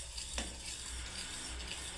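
A spoon stirs besan halwa in a pan after the sugar goes in, a steady soft scraping over a faint sizzle, with one brief clink of metal near the start.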